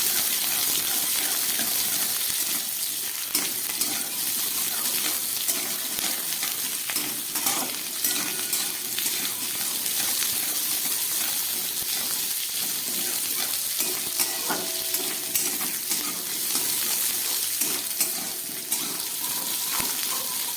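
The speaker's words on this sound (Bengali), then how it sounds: "এই তেলের মধ্যে আমি এই ক্যাপসিকাম, পেঁয়াজ আর গাজরটাকে একটু ভালো করে ভেজে নেব।" Capsicum, onion, carrot and garlic fry in white oil, giving a steady, dense sizzle with occasional stirring scrapes throughout, close and continuous without speech.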